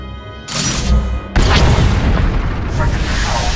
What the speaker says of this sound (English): With one movement, our flux cannons fire, and an Imperial capital ship is disintegrated.